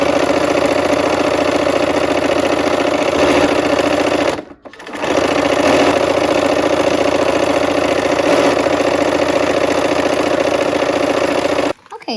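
A sewing machine stitches fabric while piecing a quilt block, its steady mid-pitched motor whir running continuously and close with a brief stop partway through, then a short pause near the end.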